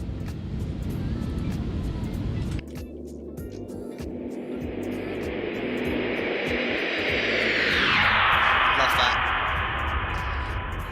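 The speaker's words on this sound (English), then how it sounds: "listen to the flyby here" A BAe 146 jet makes a flyby in X-Plane 11, its engine roar swelling and shifting pitch as it passes, loud and continuous, with a voice talking over it in places.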